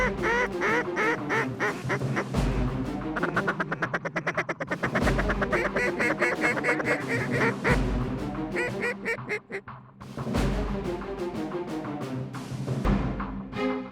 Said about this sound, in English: this little river that has been loaded up with mallards